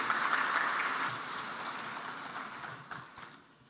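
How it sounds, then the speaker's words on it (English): An audience at an African energy summit applauds, a dense patter of clapping that is fairly loud at first and gradually thins and fades over a few seconds. "let's give him another round of applause."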